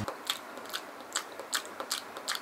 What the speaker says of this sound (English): chew with their mouth open and make this noise when they eat